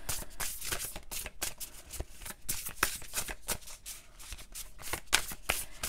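A large, oversized deck of oracle cards is shuffled by hand up close, making a rapid run of crisp riffling flutters and soft slaps that continues without pause and without talk.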